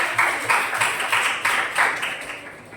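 Classroom applause during an accounting lesson, a small group clapping in several bursts that rise and fade over about three seconds, fairly close and with no talking over it.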